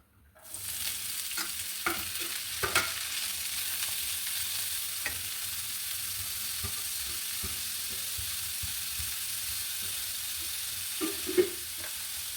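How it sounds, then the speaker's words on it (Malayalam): Chopped vegetables sizzle in hot oil with a steady crackling hiss, broken by occasional scrapes and clicks of stirring. "ഇതെല്ലാം കൂടെ നമുക്കൊന്ന് വറുത്തെടുക്കാം"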